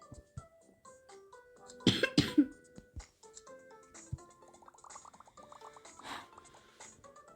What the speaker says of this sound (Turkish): öksürük tutuyor da beni biraz gıcık oluyorum